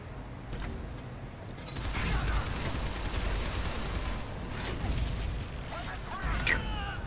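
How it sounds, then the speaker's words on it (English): A rumbling video game explosion swells and rolls on amid continuous crackling blasts, loud and dense, with a fainter burst near the end. "That's a good explosion."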